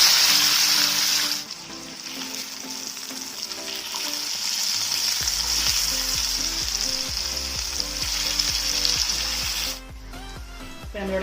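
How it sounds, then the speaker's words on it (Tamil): Katla fish fillets fry in hot oil in a pan, a steady close crackling sizzle with a few brief louder bursts as pieces are turned, no voices. "மீன் ஒரு பக்கம் வெந்துருச்சு, இன்னொரு பக்கம் நம்ம திருப்பி போட்டு வேக வச்சிடலாம்."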